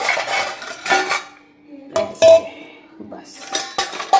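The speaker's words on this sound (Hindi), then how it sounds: "अब इसे ढक देती हूँ" Metal dishes and utensils clink and clatter in a home kitchen as a cooking pot is covered with its lid, close and loud, in separate bursts with short quiet gaps.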